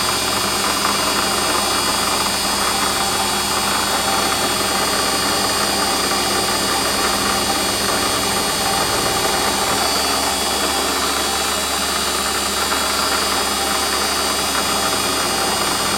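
A steady, dense mechanical roar of a Warco lathe drilling with a large center drill, with constant grinding and hum that never lets up, loud and close.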